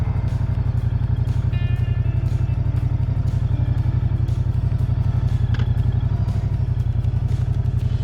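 Idling 2023 Moto Guzzi motorcycle engine, a steady, loud low throb with a rapid even pulse running throughout, with faint clatter and no voices.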